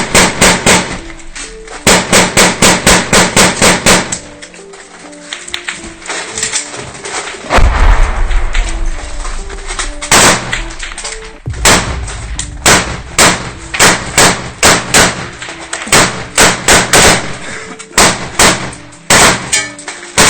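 Russian soldiers fire guns in turn, a string of sharp, loud, clanging reports coming in rapid bursts and scattered single shots, with brief lulls between volleys.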